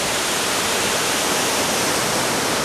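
Waterfall at Falling Water Falls in Tennessee, a steady, loud, broadband rush of falling water heard up close with no pauses or voices.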